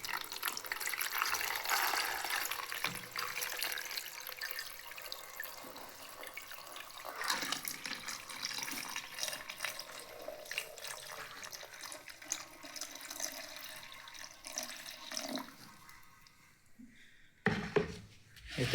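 Water pours into a plastic jug in a continuous splashing stream, close and moderately loud, easing off near the end before a brief clatter.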